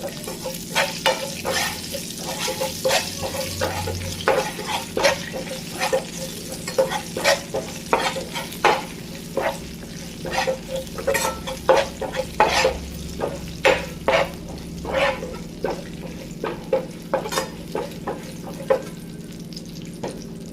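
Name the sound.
spices frying in a pan for brinjal curd chutney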